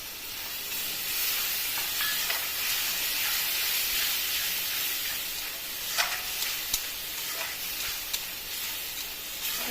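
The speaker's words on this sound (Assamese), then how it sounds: "তেলটো ভালকৈ নোলোৱালৈকে মই মগজখিনি অলপ ভাজি ল'ম ভালকৈ" Ground seed paste, blended in a mixer, sizzles in hot oil in a pan with ginger, garlic and onion for a fish curry, a steady close hiss with a few sharper pops and crackles toward the end.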